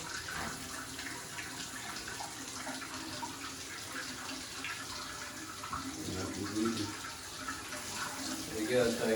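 Water sprays steadily from a hand-held shower sprayer, a soft continuous hiss that swells slightly toward the end, with a voice talking faintly underneath.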